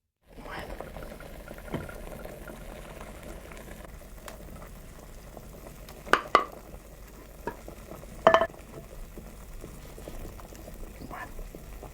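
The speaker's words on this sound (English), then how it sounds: "We let it boil." A medieval olla podrida stew from Burgos boils in a pot, giving a steady low bubbling hiss broken by a few sharp clinks near the middle and toward the end.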